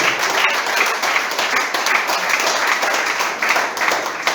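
A church congregation applauding during a sermon, steady, dense clapping from many people that fills the whole stretch at a fairly loud, even level.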